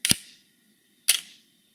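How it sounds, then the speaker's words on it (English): A film camera's shutter set to a one-second exposure fires twice, a sharp mechanical click opening it and a second click closing it exactly a second later, close and crisp in a quiet room. "Let's see how that shutter moves."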